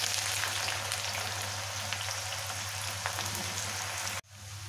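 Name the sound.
onions frying in hot oil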